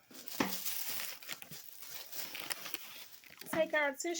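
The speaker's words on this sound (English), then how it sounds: "all we're going to do is take our tissue" Tissue paper being crumpled and stuffed into a Mother's Day gift basket, crisp crinkling and rustling close up throughout, with a person talking over it.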